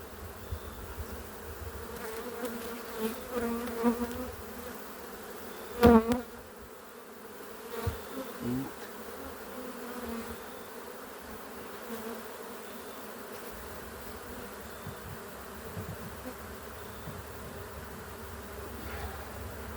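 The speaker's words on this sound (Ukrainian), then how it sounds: "бджоли розлізлися, не виходить" Honey bees from a swarm in a box buzzing softly and continuously nearby, with a few louder close passes and occasional knocks, no voices.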